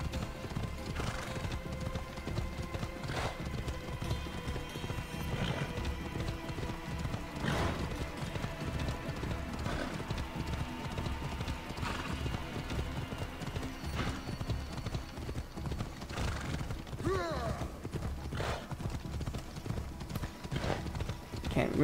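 A horse in Assassin's Creed Odyssey gallops, hooves clip-clopping in a fast, steady rhythm throughout, with occasional neighs and faint voices in the background.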